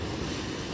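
Strong ocean waves after a typhoon roar as a continuous broad wash of surf, loud and steady with wind buffeting the microphone.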